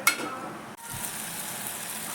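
Ingredients for egg masala fry in a pan with a soft, continuous sizzle close by, marked by a brief clink near the start.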